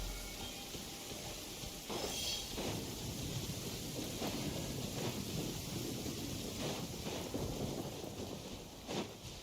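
Rain pours steadily in Genshin Impact while several thunder rumbles and cracks roll through, loud and continuous with no voices.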